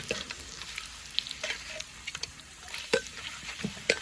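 Light sizzling and scattered crackles of food frying in a hot pan, with sharp pops breaking through a steady hiss at close range.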